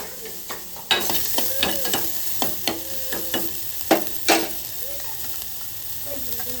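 Chopped onion and cumin sizzle steadily in a hot pan, with a spoon occasionally clinking and scraping as it stirs, heard close and without talk.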